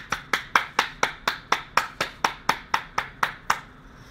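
A single pair of hands claps alone about fifteen times at a steady, even rhythm, each clap sharp and close, the last ones trailing off into quiet.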